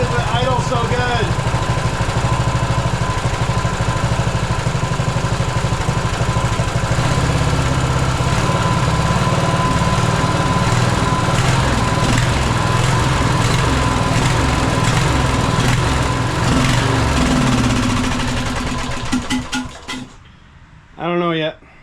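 A 1998 Craftsman LT1000 riding lawn mower engine idles loudly and steadily at close range for most of the stretch, with voices talking over it, before the engine cuts out near the end and briefly catches again.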